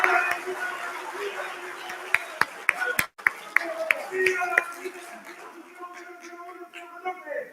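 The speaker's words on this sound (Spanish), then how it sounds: "un fuerte aplauso para ustedes, compañeros." An audience at a labor rally applauds dismissed casino workers, with scattered sharp claps and bursts of clapping mixed with crowd voices and speech.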